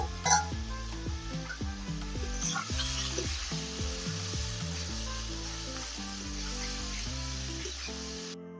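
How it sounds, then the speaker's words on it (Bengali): Raw jackfruit frying in a karahi with salt and turmeric, a steady close sizzle throughout with background music playing over it. "কাঁঠালটাকে ভালো করে ভাজতে হবে।"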